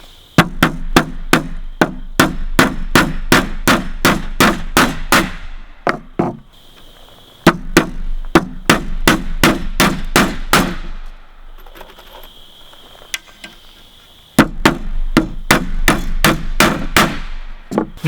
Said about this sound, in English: just go through and start putting lots of nails into this thing